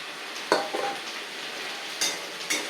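Chillies fry in hot oil in a pan for a coriander, curry leaf and mint thokku, giving a continuous close sizzle with a few sharp spatters and stirring clicks on top.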